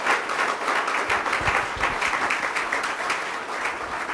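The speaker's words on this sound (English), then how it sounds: "let's have a round of applause for our panelists" Audience at a meeting applauding panelists, a full round of dense clapping that stays fairly even throughout, moderately close with no talk over it.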